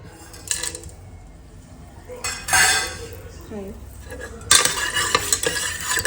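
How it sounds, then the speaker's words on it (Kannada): Whole spices hit hot oil mixed with a little ghee in a pan, with a metal spoon scraping and clinking against the pot, then a loud burst of sizzling as they fry. A voice talks faintly beneath. "ಇದು ಕಾದಿದ ತಕ್ಷಣ ನೆಕ್ಸ್ಟ್ ಸ್ಪೈಸಸ್ ಹಾಕ್ಕೊಳ್ತೀನಿ."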